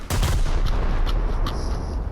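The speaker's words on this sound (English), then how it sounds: "The sound design in this game mode is fantastic for the gunnery. I just love the sound of it." Naval gunfire from the U.S.S. Fargo cruiser in War Thunder, a loud booming salvo followed by rumbling reverberation and a few fainter distant shots, with no talking.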